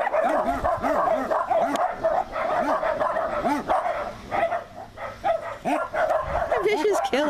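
Several dogs bark and yip repeatedly at close range at an animal sanctuary, loud and continuous, with a person talking over the barking throughout.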